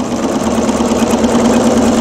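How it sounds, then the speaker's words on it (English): A sewing machine free-motion quilting a filler stitch across a quilt top runs in a steady, close mechanical hum, stitching continuously without pausing. "I'm stitching in every direction, filling all of this in, never having to stop and cut my threads"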